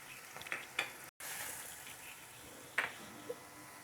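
Tomatoes with salt and cashews sautéing in a pan make a soft, steady sizzle, broken by a few scraping stirs and brief clinks, with a short silent gap near the start.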